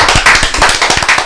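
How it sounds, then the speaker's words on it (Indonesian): A small audience claps for guests on a podcast about women workers' union members, rapid close-by hand claps in an uneven rhythm, brief and loud. "Tepuk tangan buat"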